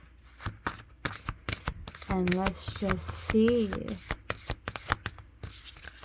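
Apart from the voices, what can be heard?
shuffling a deck of cards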